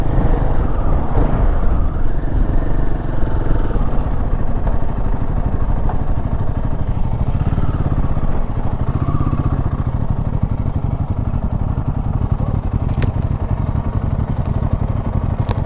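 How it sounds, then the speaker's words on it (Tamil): Road traffic on a wild hill road from Munnar to Valparai, a constant loud rumble of engines with motorcycles and vehicles passing close by, dense and unbroken throughout. "நிறைய வண்டி வருது"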